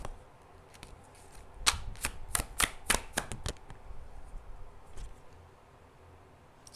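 Slick, smooth tarot deck being shuffled, a quick burst of riffling card snaps clustered in the middle, then a single later flick, close and fairly quiet.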